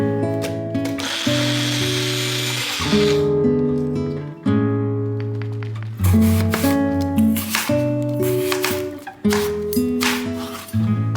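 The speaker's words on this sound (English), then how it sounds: "Then we're gonna blend this up until smooth." A kitchen blender whirs loudly and steadily as it purees a banana and cinnamon mixture until smooth, its motor pitch shifting and pulsing through the run, close up with no voices.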